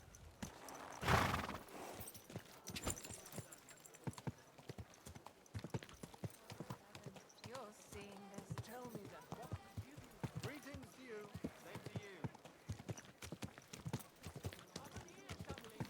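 Hooves clop steadily from a walking horse in Kingdom Come Deliverance II, fairly quiet and continuous, with a louder burst near the start and ambient game sounds and faint voices around.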